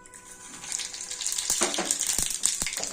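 Cumin, mustard seeds and urad dal hitting hot oil for chutney tempering, a bright crackling sizzle that builds quickly, with a few sharp pops near the end.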